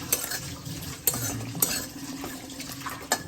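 Dried fish fry in a pan and are stirred, giving a soft steady sizzle with several sharp clinks of a utensil against the pan.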